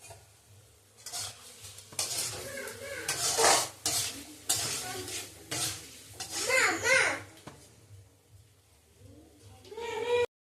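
A masala of ground chilli, cumin, tomato, salt and turmeric with a little water, stirred and fried in a pot, making repeated scraping and clattering with soft sizzling; a voice and other speech can be heard over it.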